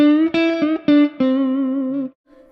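A short electric guitar lick played alone: several quick picked and bent notes settling into a sustained tone, with a touch of distortion.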